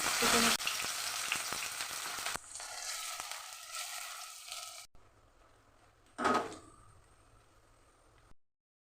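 Chopped onions hit hot oil in a wok for egg bhurji, starting with a loud bright sizzle that settles into a softer steady fry, then a brief clatter near the end before the sound cuts off; no voices.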